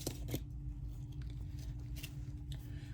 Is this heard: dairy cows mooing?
no